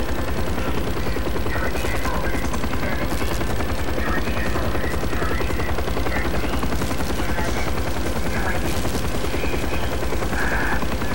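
A damaged helicopter flies in the video game Call of Duty Black Ops, its loud, steady rotor thump and engine roar running without a break and with gunfire-like bursts mixed in.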